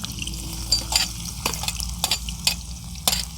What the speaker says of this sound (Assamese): পাক উঠাৰ পাছত আপুনি প্ৰথমতে তাত আদা আৰু নহৰু দি দিব তেলখিনিত